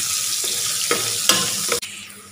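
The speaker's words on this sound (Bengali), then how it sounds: "দিয়ে সবগুলো এভাবে মশলাগুলোকে নেড়ে চেড়ে ভেজে" Chopped onion, green chili and dried chili stir-fry in a pan, giving a steady bright sizzle broken by a few scraping knocks of the spatula, with no talk.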